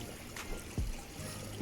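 Creek water flows at a hiking trail crossing in spring in the Canadian Rockies, a steady broadband rush with occasional low thumps, close and continuous with no talking.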